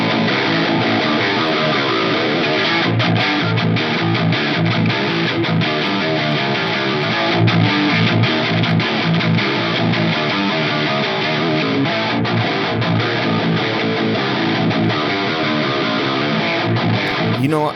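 Distorted metal electric guitar played through a Linux amp simulator with a booster and no pedals, loud, dense and continuous, chugging riffs filling the whole stretch.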